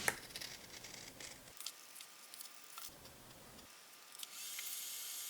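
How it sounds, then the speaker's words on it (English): Leather scissors snip through shoe tongue material in a few short, crisp cuts separated by quiet pauses, close and fairly soft. "with this optional pair of leather scissors, carefully cut the bottom and the top of the tongue"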